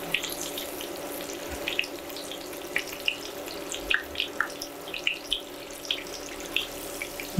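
Food sizzling as it fries in a pan, a steady crackling hiss peppered with sharp pops and spits at irregular intervals, close and moderately loud.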